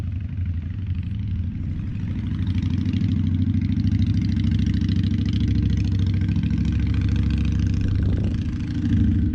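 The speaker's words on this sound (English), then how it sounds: "let me let this bike go by." A motorcycle passes close by outdoors in a yard, its engine a steady loud rumble that holds for several seconds and swells slightly near the end, with no talking.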